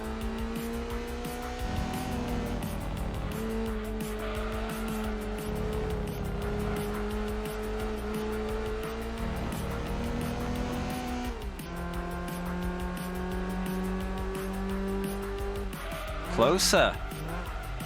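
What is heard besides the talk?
race car engine in Gran Turismo 2 video game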